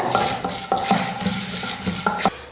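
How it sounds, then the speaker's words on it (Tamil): Chana dal roasting in a pan over a low flame, a dry rattling sizzle with repeated scraping strokes of a spatula against the metal, steady and close. "கடலைப்பருப்பு வந்து கருகாமல் வறுக்கணும், அதனால் சிம்மில் வச்சுட்டு வறுத்துக்கோங்க"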